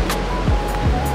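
Ocean surf rolls in at a quiet beach beside Sembukan beach, a continuous roar of breaking waves with a faint tone running beneath.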